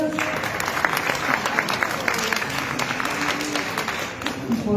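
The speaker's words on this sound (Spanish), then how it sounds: "Un aplauso para ellos." Audience applause at a youth recognition awards gala, a steady wash of clapping from a crowd with voices mixed in, sustained for several seconds.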